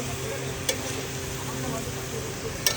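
Ridge gourd with poppy seed paste sautés in a pan, a steady close sizzle with a couple of sharp utensil clicks and faint background talk.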